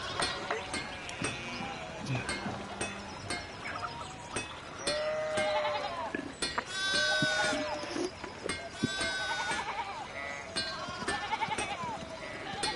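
Sheep bleating in the video game Pentiment, repeated wavering cries overlapping one another against a busy game soundtrack, with a voice talking intermittently over it.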